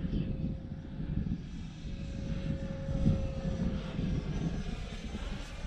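An Arrows T33 Shooting Star RC model jet on a 4S 1300 battery drones steadily overhead, a continuous whooshing engine roar at moderate distance that swells slightly midway, with no voices.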